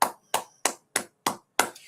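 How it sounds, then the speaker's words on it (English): Six sharp, evenly spaced claps roughly a third of a second apart, loud and close, from a small group at a Harlem gathering of the Israelite School of Universal Practical Knowledge, the last clap trailing into faint noise. "With that, clap it up."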